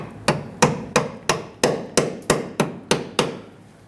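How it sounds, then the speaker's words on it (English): Ten sharp hammer taps on a metal brake hose clip ring out at an even rhythm, each with a short metallic decay, close and fairly loud. "I'm going to use a hammer to go ahead and tap that on."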